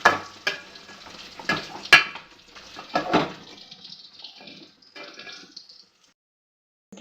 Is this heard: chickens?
no